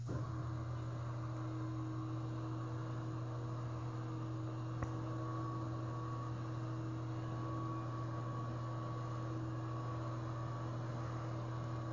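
A low-voltage Simu 5Hz RF roller shade motor at 24 RPM drives a wide blackout shade, making a quiet, steady electrical hum throughout, with one faint click midway and no speech.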